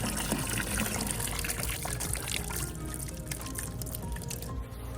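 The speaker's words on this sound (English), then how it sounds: "the water is overflowing" Water spilling over the rim of a horse's trough on a chilly November morning, a steady splashing trickle with dripping, continuous and fairly close throughout.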